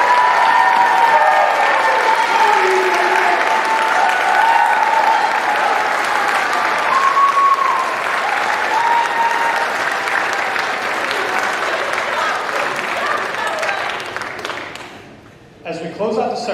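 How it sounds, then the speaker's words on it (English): A Phi Theta Kappa induction ceremony audience applauds its inductees with loud, sustained clapping from a large crowd that fades out near the end, with some voices and cheering mixed in. "Let's give our inductees a round of applause"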